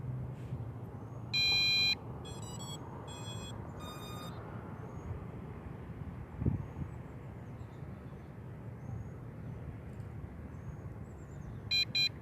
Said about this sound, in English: Turn the drone on.